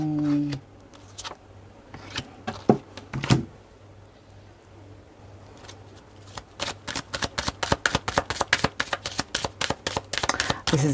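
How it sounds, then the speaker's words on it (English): A deck of cards is shuffled close up: a few scattered handling sounds, then a long, quick run of crisp, rhythmic riffling clicks that grows louder toward the end. "Got to shuffle the cards for you."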